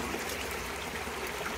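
Water runs freely out of a forebay tank, a steady, even trickling flow that holds at a constant, fairly soft level throughout with no voices.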